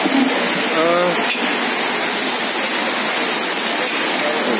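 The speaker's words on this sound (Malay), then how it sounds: "Kondisi perumahan ini mengalami hujan deras." Heavy rain pours down steadily over a housing area in Krueng Mane, Aceh, in a loud, dense wash of noise, with a brief voice-like sound at the start.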